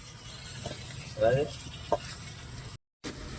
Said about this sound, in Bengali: আর এখানে মাথাটা একটু ভাজা হচ্ছে